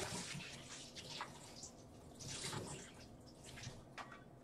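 Yarn plunged back into a container of dye liquid during a knitting-yarn dyeing session gives soft splashing and trickling water sounds, with brief louder sloshes and drips in a quiet room and no talking.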